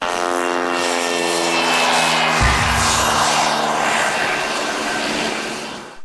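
Propellers of an Autel EVO 2 Enterprise quadcopter drone whir steadily outdoors, a loud sustained buzzing drone with stacked motor tones and a brief low thump partway through.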